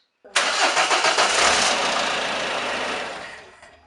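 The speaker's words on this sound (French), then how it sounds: "Maintenant, on va démarrer et on va voir si ça marche." A car engine cranks and fires after its air intake ducts are refitted, bursting in abruptly after a short silence, running loud and rough, then fading away toward the end.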